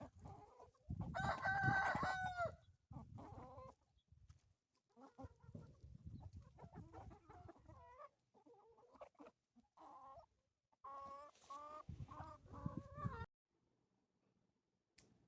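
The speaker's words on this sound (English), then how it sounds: "And the roosters are calling the hens in" Roosters crow and call to hens on a homestead, with chickens clucking and a cat-like cry mixed in; several loud, close bursts of crowing and clucking come in clusters separated by short pauses.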